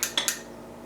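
A spoon knocks twice against a pan while stirring garam masala and amchur into chana masala, giving two short, close metallic clinks followed by quiet.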